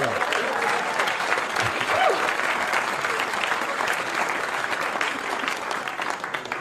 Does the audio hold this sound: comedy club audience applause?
yes